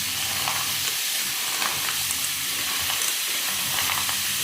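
Clams sizzle and fry steadily in a pan in a home kitchen, a dense close hiss broken by occasional soft scrapes and knocks of stirring throughout.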